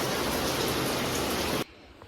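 Heavy rain pours down in a loud, dense, steady hiss that cuts off abruptly near the end, leaving a quiet background.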